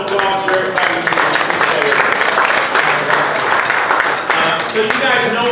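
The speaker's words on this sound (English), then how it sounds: "a round of applause for everybody" Guests at a golf tournament's evening reception break into loud, continuous applause that blends with chatter and raised voices, a thick crowd sound from start to finish.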